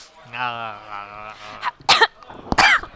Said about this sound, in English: I like how I turned towards you in order to do the coughing